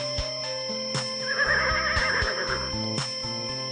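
A horse neighs once, a drawn-out, quavering whinny over a background of music.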